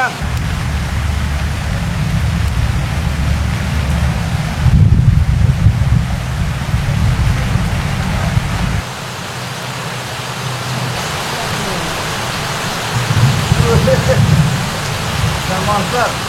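Rain pours at a fishing pond, a continuous broad hiss with gusty bursts and shifts in level, the patter thinning briefly partway through before swelling again.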